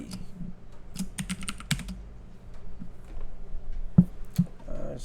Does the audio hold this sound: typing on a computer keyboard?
yes